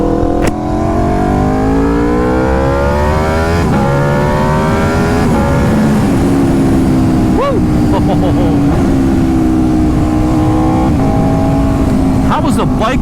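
A 2021–23 Aprilia RSV4 with an SC Project CR-T exhaust is revved loud and close, its engine note rising and falling through repeated climbing sweeps, with brief crackles between revs.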